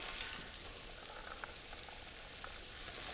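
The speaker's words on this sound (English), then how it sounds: "add this to what I'm sauteing in the soup" Potatoes, onions and celery sauteing in a soup pot, a steady, dense crackling sizzle with faint pops, quiet and continuous with no talk.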